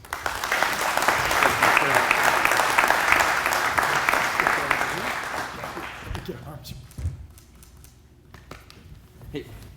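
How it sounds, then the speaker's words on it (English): Luncheon crowd at a chamber of commerce business awards event giving a round of applause, loud dense clapping for about six seconds that dies away into scattered claps and room noise. "So please give them a round of applause"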